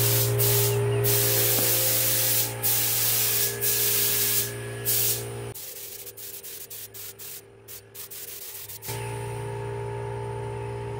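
Spray painting a multicolor Dodge Neon car: bursts of loud hissing spray stop and start, with a quieter gap in the middle before the spraying resumes steadily.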